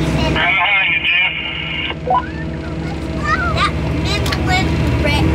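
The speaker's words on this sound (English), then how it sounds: "That Midland radio sure is loud, Dad." Loud Midland two-way radio on a farm during a hurricane, giving a sustained electronic beep tone followed by squawky, chirping radio chatter over a steady low engine-like hum.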